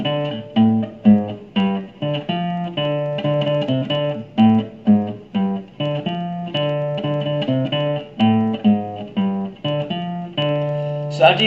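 Guitar riff from a beginner lesson played on the fifth and sixth strings, a repeating low melodic figure of plucked notes at moderate loudness, steady rhythm throughout with no speech over it.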